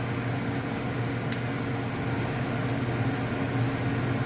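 An ION hooded hair dryer runs on its hot setting, giving a steady, moderately quiet whir of fan and airflow that holds even throughout, with one brief faint click partway in.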